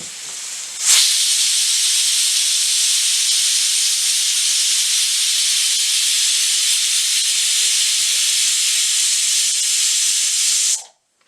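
A pressure cooker on high flame, cooking chicken pulao, vents steam in a sudden loud, continuous hiss that holds steady for about ten seconds and then cuts off abruptly.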